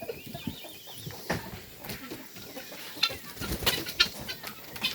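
Chickens clucking on a farm, with a rooster-like call among them, under steady outdoor background noise, with scattered short calls and a few brighter chirps standing out near the end.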